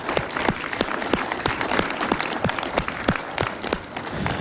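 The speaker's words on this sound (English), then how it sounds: "So please, everyone, give them a round of applause." A crowd at a podcast awards ceremony claps for the sponsors, loud and dense applause with distinct nearby hand claps standing out throughout.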